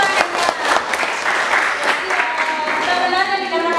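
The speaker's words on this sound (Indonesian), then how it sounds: "Oke, tepuk tangan." Classroom applause from students in an Indonesian school lesson on ecosystems, a steady, fairly loud patter of many hands clapping together for nearly four seconds, with voices mixed in.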